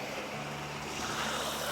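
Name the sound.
small trickling mountain stream at a bridge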